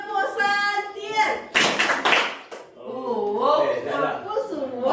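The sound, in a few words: rhythmic group hand clapping game (tepuk)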